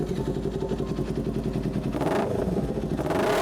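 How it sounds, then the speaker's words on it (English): A Kawasaki Ninja 400 fitted with a racy LeoVince slip-on exhaust runs close and loud, a rough, clattering engine note that surges as it is revved. "time to hear how the bike sounds with the LeoVince slip-on"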